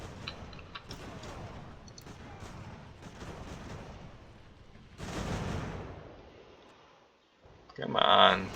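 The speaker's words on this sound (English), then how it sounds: "Shot at one artillery battery." Artillery booms and scattered gunfire roll through an Ultimate General: American Revolution battle near Boston, muffled and distant with a louder blast partway through and another at the end, while a voice talks over the action.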